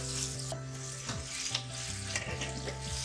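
Tomatoes frying in a pan for a chickpea pickle pulao, a steady close sizzle broken by scraping stir strokes, with a faint tonal hum running underneath.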